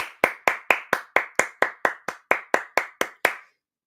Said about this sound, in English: Jadon, I want to give you a round of applause.